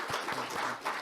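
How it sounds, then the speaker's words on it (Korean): Applause from a seminar audience at a gas safety conference, brief and moderately loud, a dense burst of clapping filling just over a second without voices. "지금까지 발표해 주신 타미 아이작 박사에게 큰 박수로 환영해 주시면 감사하겠습니다."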